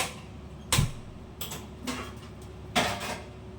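Several sharp, irregular clicks of a gas stove igniter, spaced apart over a faint background hum.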